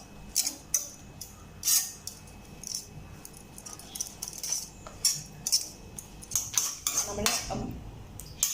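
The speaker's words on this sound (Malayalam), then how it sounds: "നമ്മൾ മുട്ടയും ക്യാബേജും കൂടെ നല്ലപോലെ മിക്സ് ചെയ്ത് കൊടുത്തിട്ടുണ്ട്." Egg and cabbage being mixed together in a bowl, with a spoon or whisk clinking and tapping against the bowl in irregular bursts, fairly quiet and close, with no talk.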